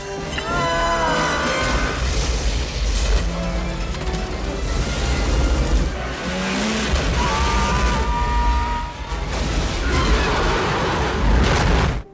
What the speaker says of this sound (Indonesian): Kenton akhirnya tewas meledak bareng sama kapal pesiarnya sendiri.